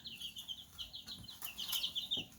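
Baby chicks chirping in a brooder corner on a homestead, a steady stream of high, rapid peeps close by with no talk.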